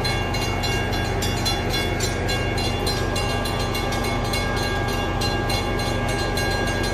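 A CTrail passenger train rumbles steadily past up close at a railroad crossing in Windsor, Connecticut, on a wet day, with continuous loud wheel and rail noise and faint rhythmic clacking throughout.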